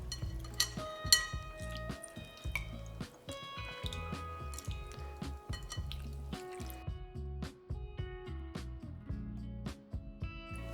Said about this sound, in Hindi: अब इसका हम टैमरिंड वाटर बनाएंगे। इसको बस हल्के हाथ से आपको मसलना है।